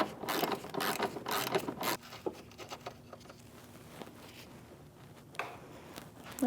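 Ratchet wrench loosening the last hood hinge nut on a Chevrolet Malibu, a dense burst of close metallic clicking for about two seconds, then quieter scattered clicks and small mechanical clatter.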